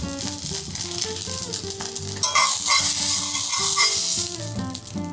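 Goat cheese croutes browning in a frying pan give off a steady, close sizzle with occasional scraping, over soft background music.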